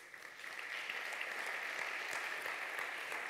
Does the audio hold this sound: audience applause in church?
yes